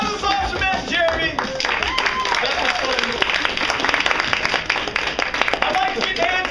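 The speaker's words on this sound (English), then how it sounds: "Round of applause for Matt and Jeremy." Audience applause at a live stage show: a dense, steady wash of clapping from a crowd, loud and close, with voices talking over it throughout.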